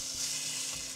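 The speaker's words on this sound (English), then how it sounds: "did you hear that sizzle?" Bread sizzles in a hot pan, a steady crackling hiss with no voices, ending in a small tap.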